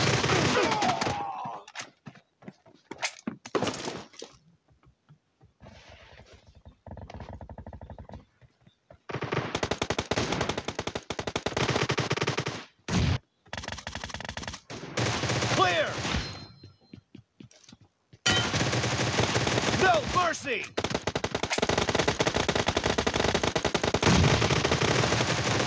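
Rapid automatic gunfire in a team deathmatch shooter, bursts of loud machine-gun fire broken by short silences and single shots, with game voices and chatter mixed in.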